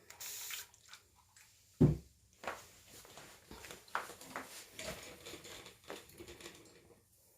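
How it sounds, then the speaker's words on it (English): Water is squirted from a spray bottle onto a transfer being detailed, heard as one sharp burst followed by fainter intermittent spritzes, drips and handling noises in a quiet room. "another squirt of water"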